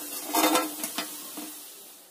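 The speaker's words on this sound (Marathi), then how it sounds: "अशाच प्रकारे मी सगळ्या चकल्या तळून घेणार आहे" Chakli frying in hot oil, heard as a soft bubbling sizzle with a few brief stirring swishes early on that fade into a quieter steady hiss.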